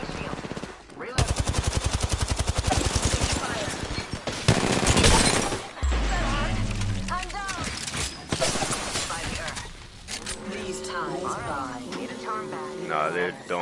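Rapid video game gunfire, dense machine-gun bursts and shots with shield and ability effects layered over them, while a voice talks throughout.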